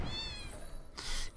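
A cartoonish cat meows in the video game Fowl Space, a few short high-pitched mews with clear harmonic tones, followed by a bright burst of game noise near the end, with no talking.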